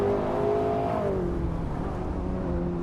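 A 1993 Porsche 911 Carrera RSR in Group A trim, driven in a racing video game, holds a steady, buzzing engine note before the revs sag and settle lower, droning loudly throughout.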